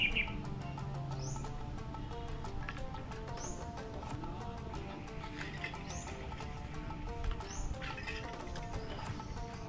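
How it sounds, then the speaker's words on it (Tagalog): Birds chirp outdoors in natural surroundings: short, bright, repeated calls ring out at intervals over a quiet background with faint music, fairly soft and moderately near. "Tapos ang mga ibon guys."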